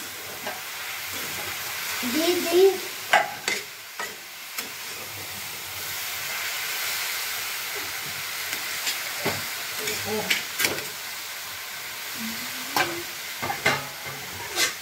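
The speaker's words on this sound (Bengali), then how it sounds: "আবার একটু নাড়াচাড়া দিয়ে আবার ঢাকা দিয়ে দেব, নাহলে লাগে যাবে" Carrot halwa being stirred in a pot between covered cooking stretches: a soft steady sizzle and steam hiss with intermittent scraping spoon strokes and a few knocks, close and fairly quiet.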